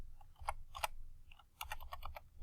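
Keys tapped on a computer keyboard while entering text in AutoCAD, heard up close as scattered clicks in short bursts over a faint low hum, with no talking.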